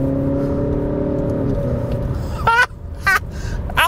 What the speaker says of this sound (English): Get some revs on it